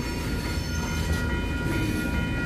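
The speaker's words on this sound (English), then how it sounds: "Just cargo trains." A cargo train rolls past steadily, a loud continuous rumble of rail cars with metallic wheel hum and faint clatter, close by and with no voices.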